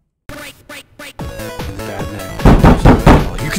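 A door bangs inside the stealth game The Dark Mod: a few sharp knocking thuds in a quick uneven series, then a louder, fuller crash that carries on into echoing game ambience.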